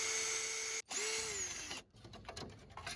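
Power screwdriver whirring in short bursts as it backs out Phillips screws from a headlight trim piece on a 1987 Plymouth Gran Fury, close and quiet, followed by faint clicks and handling noises.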